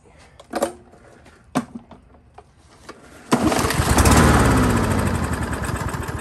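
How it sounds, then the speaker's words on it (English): A Troy-Bilt 21-inch lawn mower with a Briggs and Stratton 140cc engine: a few sharp recoil-cord pulls, then the engine catches after about three seconds and runs loudly at a steady, close, rumbling idle. "record a startup sound of this 140cc engine"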